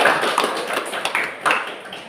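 A classroom of students gives a short burst of clapping for a group's presentation, a quick patter of overlapping claps that rises and fades within a couple of seconds.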